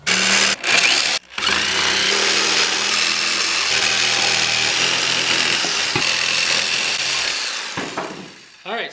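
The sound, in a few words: jigsaw cutting cedar wood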